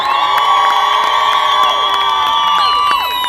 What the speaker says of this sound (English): Give a big round of applause to Dr. Aziz, everybody.